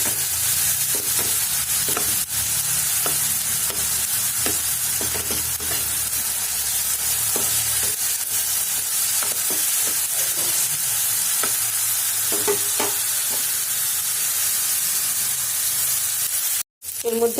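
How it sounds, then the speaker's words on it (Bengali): Onion paste frying in a pan gives a continuous, fairly loud hissing sizzle, with occasional soft taps and stirring scrapes, close by and with no talking. "একটু পেঁয়াজ বাটা দিলাম।"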